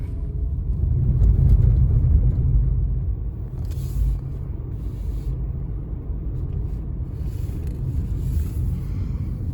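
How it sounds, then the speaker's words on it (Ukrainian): A car drives along a road, heard from inside as a steady low rumble of engine and road noise that swells slightly early on and then holds even. "Їду до неканадців моїх, до мадам Тельми, і це більше п'яти кілометрів звідси."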